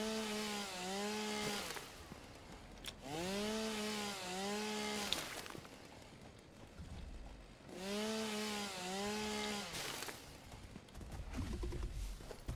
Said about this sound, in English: Let's get out my chainsaw